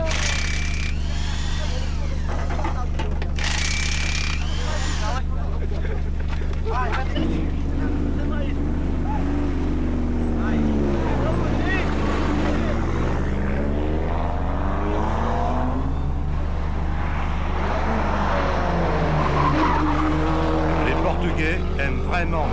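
Rally cars on night practice at the 1991 Rallye du Portugal roar past one after another, engine notes rising and falling as they sweep by, over a steady crowd murmur and voices.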